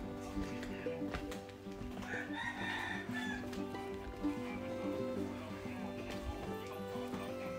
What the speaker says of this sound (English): Seems to be about 5 chickens for every one person.